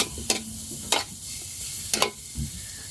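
Onion is sautéed with garlic and ginger in a pan over an open fire. A faint sizzle runs underneath, broken by several sharp scraping stirs of a spatula against the pan, spaced about a second apart.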